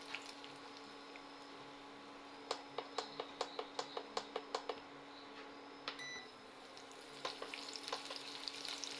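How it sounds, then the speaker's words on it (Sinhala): A polos (young jackfruit) cutlet mixture fries in oil with a quiet, steady sizzle, joined by a run of regular sharp clicks or taps and some scattered crackles near the end, with no speech. "දැන් හොඳින් මේ ටික තෙලේ බැදගන්න."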